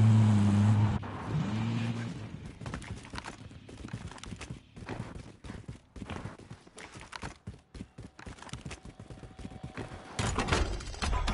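A vehicle engine revs and rumbles in a Call of Duty Warzone match, with uneven surges and drops in loudness and a brief sharper burst near the end.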